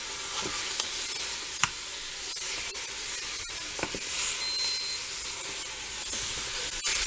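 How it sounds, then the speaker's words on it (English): Ground meat sizzles steadily in a hot pan, a continuous bright frying hiss with scattered scrapes and taps as it is stirred and moved around, close and alone without voices. "And you mix your meat. Move it around."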